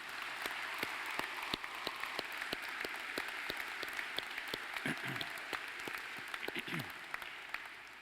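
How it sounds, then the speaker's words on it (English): An audience at a high school graduation ceremony applauds in a sustained, even roar of clapping, with sharper individual claps standing out near the front and brief voices rising partway through. "join me in a round of applause to honor this accomplishment"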